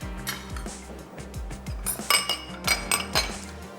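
A metal spoon clinks repeatedly against a dish in a kitchen, bright irregular taps in quick clusters, close and clear with no talk.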